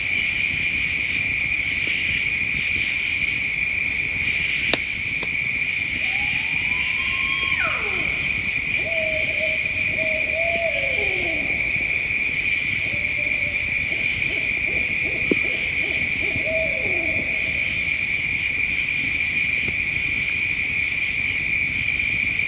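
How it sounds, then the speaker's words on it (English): An owl hoots several times in a forest at night, mid-distance and clear, with a steady chorus of crickets and insects droning underneath throughout. "The subsequent owl sounds emanated from the exact same location."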